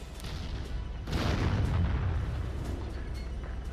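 Artillery fire in the VR strategy game Final Assault VR, a dense rumbling barrage that swells after the first second into heavy booming blasts, then settles into a sustained low roar.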